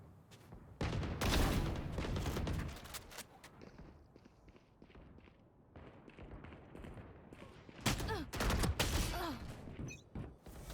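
Gunfire in a shooter video game, with two loud bursts of rapid shots separated by quieter footsteps and movement, no speech.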